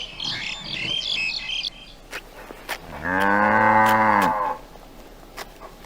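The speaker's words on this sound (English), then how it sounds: "Highland cattle," Highland cattle give one long, loud, harmonic moo lasting more than a second, standing out plainly after birds chirping and a few soft clicks.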